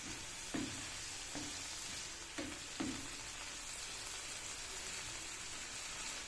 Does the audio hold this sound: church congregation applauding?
no